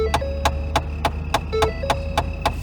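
An old truck engine cranks and struggles to start in cold winter weather in the Colorado mountains, giving a steady run of about nine sharp, evenly spaced chugging beats close by with no voices.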